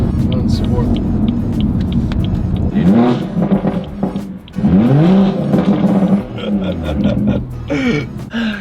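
A BMW 340i with the B58 turbo engine in sport mode, factory tune, revs hard in repeated rising surges with a whooshing turbo note, loud and close from inside the car, with people talking over it.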